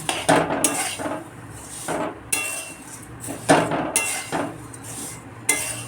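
Flattened rice, chire, is fried and stirred in a pan, with a metal spatula striking and scraping the pan in loud, irregular clanks over a soft background rustle.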